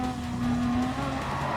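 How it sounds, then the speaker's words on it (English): Race cars braking hard into a corner at the Dragon Trail Gardens circuit in Gran Turismo Sport, with engine tone and a brief rising tire squeal over a steady drone. "Both on the brakes."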